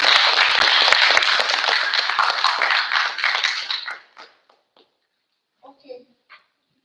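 Audience applause welcoming a partnership manager onto the stage at a conference, dense clapping that fades out after about four seconds, followed by a few scattered claps and a brief voice.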